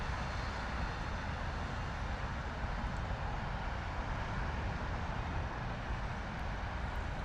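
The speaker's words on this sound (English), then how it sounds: "A321 Neo." An MEA Airbus A321neo arriving from Beirut lands at London Heathrow, heard as a steady, moderately distant engine roar that holds evenly for several seconds.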